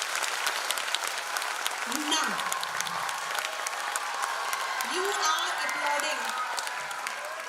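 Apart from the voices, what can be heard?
audience applause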